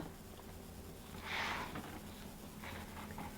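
Fabric being cut along a ruler for a tote bag, a faint short scraping swipe in a quiet room, followed by a couple of softer rustles.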